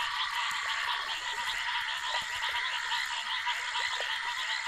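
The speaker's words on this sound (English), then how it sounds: "the foam frogs launch their sexual orgies" Foam frogs call in a dense, continuous chorus during heavy rains along vanishing pools of the Zambezi, many overlapping croaking voices forming a steady wall of sound with no pauses.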